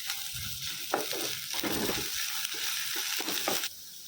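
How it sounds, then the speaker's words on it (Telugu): Chopped green chillies fry on a high flame in a pan, giving a loud, steady crackling sizzle broken by several sharper bursts as the pieces are stirred, with no one speaking. "సన్నగా తరుక్కున్న పచ్చిమిర్చి 4 లైట్గా ఫ్రై చేసుకుందాం హై ఫ్లేమ్లో"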